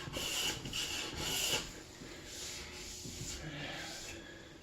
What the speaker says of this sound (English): Beautiful thin shavings. You can hear, I'm sure.